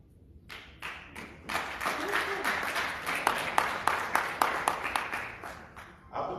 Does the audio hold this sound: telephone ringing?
no